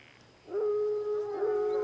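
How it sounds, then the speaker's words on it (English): A wolf pack howls, one sustained, steady howl rising out of quiet and holding for over a second, heard from a moderate distance. "it's the wolf pack. They're back."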